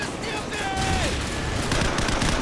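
Rapid gunfire crackles in a Call of Duty 4: Modern Warfare match, dense bursts of shots blending into a continuous rattle that holds steady and loud throughout, with a faint electronic tone sliding down partway through.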